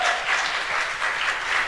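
Audience applause at a music awards ceremony: steady, moderately loud clapping from a crowd, a brief continuous patter with no talking.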